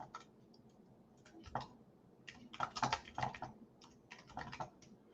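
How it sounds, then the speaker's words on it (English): Quiet, close typing on a computer keyboard, irregular bursts of clicky keystrokes with short pauses between. "So I'm typing it in the comment section"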